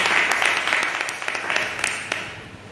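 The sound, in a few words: congregation applauding loudly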